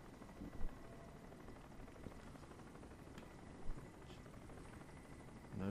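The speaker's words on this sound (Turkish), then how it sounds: "Helikopter neredesin?" Helicopter in the video game Crysis, a constant rotor drone in the background with a few short thumps and bumps over it.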